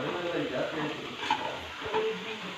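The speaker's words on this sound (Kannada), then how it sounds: "ಎಣ್ಣೆ ಹಾಕ್ಕೊಂಡು ಈರುಳ್ಳಿ ಫ್ರೈ ಮಾಡ್ಕೊತಾ ಇದ್ದಾರೆ" Onions frying in oil in a home kitchen give a steady, close sizzle with a soft hiss that runs the whole time, and light stirring clinks now and then.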